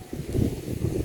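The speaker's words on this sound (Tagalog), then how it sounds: "Mahangin po ngayon. Hinahangin po yung palay." Wind blows through rice plants in a field in low, rumbling gusts that rise and fall, buffeting the microphone outdoors.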